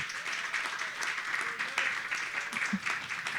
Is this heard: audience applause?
yes